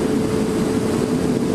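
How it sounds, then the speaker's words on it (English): A motorbike engine revs hard and steady, a loud, continuous droning roar with a dense low hum that holds unbroken without any pauses. "You can hear how loud my bike's revving."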